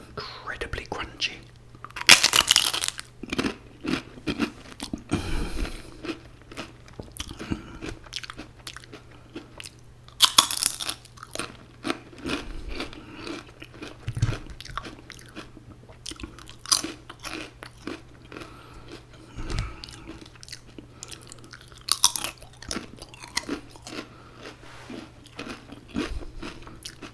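Crunchy poppadoms with Indian food being bitten and chewed close up, loud crisp crunches arriving in bursts every few seconds, with softer chewing and quiet whispered talk between them.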